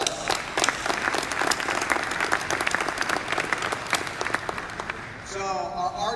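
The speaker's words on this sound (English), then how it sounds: "Let's give them another giant applause." Loud, sustained applause from a tech conference audience in Rochester, a thick wash of many clapping hands that fades out near the end as a voice begins speaking.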